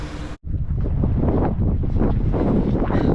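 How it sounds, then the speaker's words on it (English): Heavy wind buffets the microphone outdoors on a farm in a loud, continuous low rumble after a brief cut, with gusts rising and falling. "it's very windy out here by the way"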